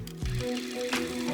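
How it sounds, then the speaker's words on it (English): A sewing machine stitching binding onto a quilt runs in a short, close, steady mechanical whir that pauses briefly and then starts again, with no voices. "you're just going to pivot the quilt and then continue sewing"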